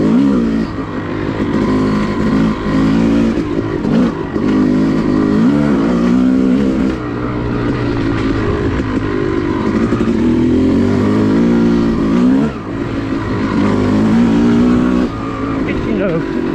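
A Yamaha YZ250 two-stroke dirt bike engine on a wet woods trail at Enoree OHV area, loud and close, its raspy tone rising and falling steadily through throttle changes for the whole stretch.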